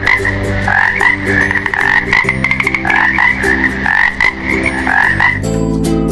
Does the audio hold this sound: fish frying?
no